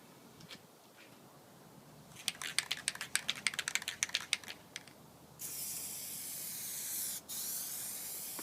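Plasti Dip aerosol is sprayed onto a Dodge SRT-4 car for stripes. First comes a run of quick clicking rattles, then a long steady hissing spray with one brief break, fairly close.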